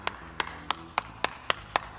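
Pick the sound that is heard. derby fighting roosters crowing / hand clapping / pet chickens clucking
hand clapping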